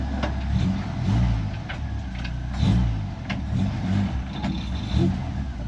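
A 1931 Ford Model A hot rod coupe with a 2.3L engine drives, its engine rumbling steadily with rising and falling revs, recorded from nearby with wind and road noise.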